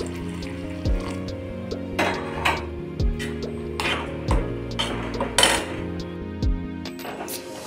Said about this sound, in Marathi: आता आपण यात पाणी घालून घेतोय।